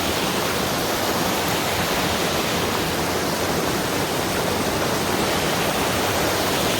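Water rushes continuously over Mankayam Waterfalls near Brimore in Trivandrum, Kerala, a dense, steady roar heard close with no voices.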